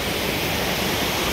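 A waterfall at Kimadi near Dehradun pours in a dense, continuous roar of rushing water, loud and close with no breaks.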